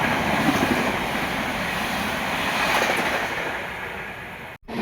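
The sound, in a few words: through train passing a station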